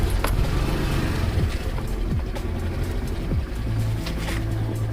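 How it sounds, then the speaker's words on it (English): Steady wind and rushing road noise while riding a bike near Little Vagator in Goa, with a continuous low engine rumble and occasional passing vehicles, close and loud throughout. "So I'm going by bike over here."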